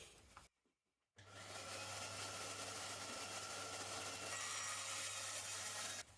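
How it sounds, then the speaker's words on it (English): After a brief pause a bandsaw runs steadily through wood for a workshop stool, producing a sustained, even, low hum with a rasping cut for about five seconds before stopping. "Guess it's onto the bandsaw to finish cutting it off then."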